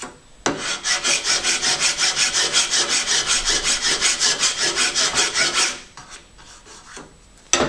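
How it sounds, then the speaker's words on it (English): A wood file rasps back and forth across a wooden lap joint in about twenty even, rhythmic strokes, close and fairly loud, then stops, leaving a few faint handling knocks. "just move the file backwards and forwards, and slowly you'll get rid of"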